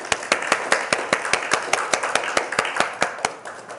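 A church congregation claps in unison, a steady rhythmic beat of sharp, loud hand claps in a reverberant room, with no talking over it.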